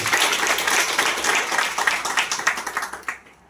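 An audience claps warmly for two business mentors at a network marketing gathering, a dense, sustained round of applause from many hands that thins into scattered claps and fades out near the end.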